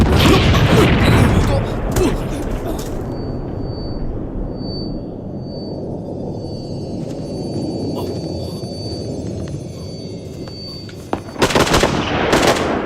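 Gunfire in a shooting video game: heavy bursts open and close the stretch, with a steady rumbling din and faint electronic beeps between them, and talk heard over it.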